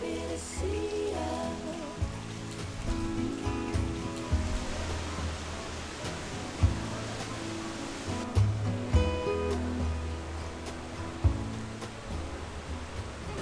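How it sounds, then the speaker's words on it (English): Heavy rain pours steadily at Tangweiguo Park in Jiaoxi, Taiwan, on a very wet day, making a dense, continuous hiss with occasional nearby thumps and spatters. "it is also a super rainy day"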